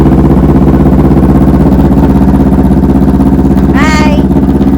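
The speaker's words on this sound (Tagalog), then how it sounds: "So, ayan po yung kanyang motor." A motorcycle engine idles steadily and loudly up close, a constant low rumble with a brief whistling or squealing sweep near the end.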